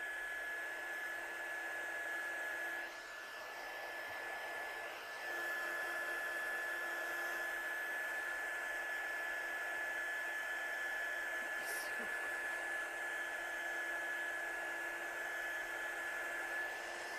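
A hair dryer or heat tool blows steadily, close and fairly loud, drying heavily stamped wet ink on a card; the airflow dips briefly about three seconds in and then holds a constant whooshing hiss to the end.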